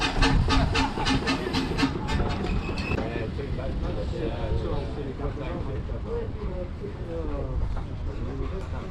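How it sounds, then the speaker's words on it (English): A small steam locomotive on a quaint little railway near Hythe, on the English south coast, chuffs and clatters past with hissing steam and rhythmic clickety-clack of wheels, fading slightly as it continues. "Quaint little steam railway."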